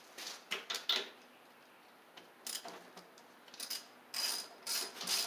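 A ratchet clicks while loosening the spark plug on a Craftsman LT3000 lawn tractor. Short bursts of quick, close, dry clicks come in an uneven rhythm, separated by quiet pauses, with no voices.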